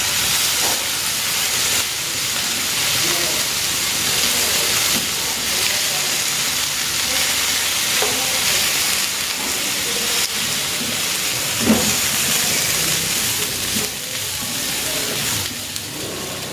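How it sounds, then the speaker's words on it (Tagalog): Pork loin seasoned with salt and pepper sears in a hot pan, a steady broad sizzle and hiss running throughout with small pops and crackles. "isisir ko naman itong pork"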